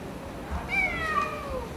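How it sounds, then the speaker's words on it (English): A street cat with an inflamed neck gives a single drawn-out meow, clear and close, over a low steady background hum. "We found this cat and I think she has an inflammation on her neck."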